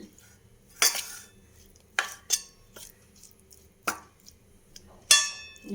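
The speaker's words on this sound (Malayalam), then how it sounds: "ഇതിനെ ഒന്ന് നന്നായിട്ട് മിക്സ് ചെയ്ത് വെക്കാം" A spoon clinks and scrapes against a bowl while powder is stirred, giving scattered sharp metallic taps and clatters with quiet pauses between, close and fairly loud.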